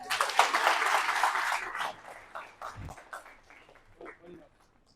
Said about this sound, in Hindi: फिर बाबा के लिए ताली बजाओ।